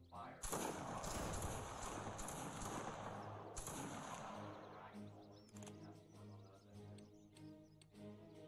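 Musket volley fire in a Roblox Waterloo training game crashes out as a sharp, loud burst, with a second ragged volley a few seconds later. Voices talk through and after the shots.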